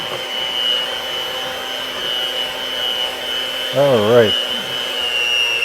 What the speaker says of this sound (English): And then I'll just quickly mix that into the batter now.